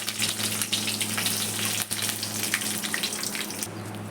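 Seeds crackle and sizzle in hot oil in a pan, a steady close frying hiss that continues throughout with a faint low hum beneath.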